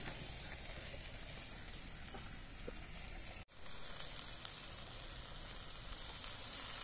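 Chili paste goes into taro leaves cooking in a pan, giving a steady, crackling sizzle of frying at close range. The sound runs continuously apart from a momentary break midway.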